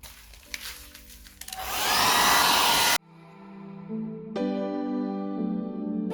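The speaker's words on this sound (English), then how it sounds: "I'll give this hairdryer a go and see if we can" A hairdryer heating a 2010 Skoda Yeti's rear emblem blows with a loud, steady whoosh, cuts out abruptly, then restarts at a lower, humming setting before stepping up again.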